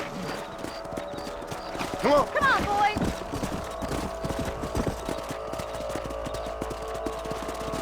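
Horse hooves clip-clop steadily in the Red Dead Redemption video game, close and rhythmic under a man's spoken line, with a brief whinny near the start.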